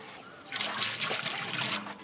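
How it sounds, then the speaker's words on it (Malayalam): Dissolved china grass water is poured as a layer into a cake pan for a fruit jelly cake, a soft, brief trickle of liquid up close lasting a couple of seconds. "ഇതിലേക്ക് നമ്മളിത് നമ്മുടെ ചൈന ഗ്രാസ് കലക്കിയ വെള്ളം ഒരു ലെയർ അങ്ങോട്ട് ഒഴിച്ചു"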